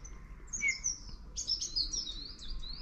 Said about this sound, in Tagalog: Nakanta naman yung ibon.